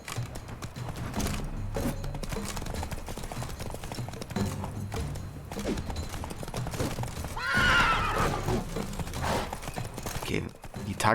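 A horse neighs loudly and hooves clip-clop in The Witcher 3: Blood and Wine, with a sharp whinny rising over steady hoofbeats and game noise while a person talks along.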